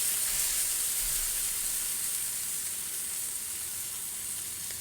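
Smash burgers sizzle on a Blackstone flat-top griddle, a steady, even hiss of frying fat running unbroken throughout with no voices.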